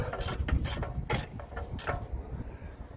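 Small hand ratchet clicking in quick bursts while tightening a rear brake caliper bolt on a BMW F10 5 Series M Sport, close and fairly loud, with sharp metallic ticks over light background noise.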